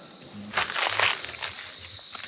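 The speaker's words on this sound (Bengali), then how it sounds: "এই যে পোকাটা দেখছো এটাই হচ্ছে ঝিঝি পোকা পুরো গাছের সাথে মিশে আছে যে আওয়াজটা আপনারা পাহাড়ে শুনতে পারেন" A cricket in the hills of Sittong starts a shrill, continuous buzzing chirp about half a second in, loud and close, persisting steadily over faint background rustles.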